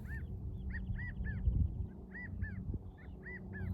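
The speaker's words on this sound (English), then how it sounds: "When I hear that bird, I always hear" A bird calls repeatedly outdoors, short bright whistled notes in a steady rhythm of pairs and triplets over a low rumbling background.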